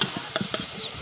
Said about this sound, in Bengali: এদিকে একটু ভালো করে ভেজে নেব গাজরটা, ভেজে নিচ্ছি